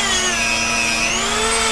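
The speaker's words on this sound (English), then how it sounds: "this sanding disc will save you a lot of time also" A power tool fitted with a sanding disc carves into wood, stripping bark and shaping the surface. It makes a loud, close, steady high whine with no talking.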